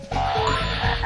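In the Glover video game bonus level, a frog croaks in one loud, rough, sustained call that fills the moment, close and alone.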